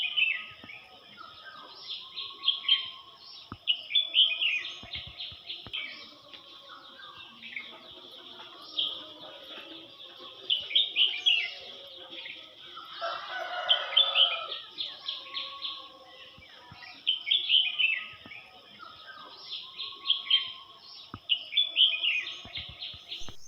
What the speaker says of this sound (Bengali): কেমন সুন্দর পাখির ডাক বলুন তো?